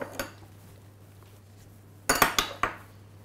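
Spoon tapping and scraping against a ramekin while pressing a pepper-eggplant mixture into an eggplant charlotte, one clink and then a close cluster of sharp clinks after a quiet pause.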